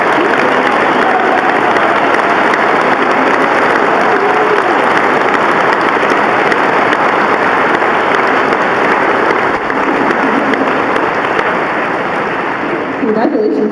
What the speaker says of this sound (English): if we could give all of our winners one more big round of applause.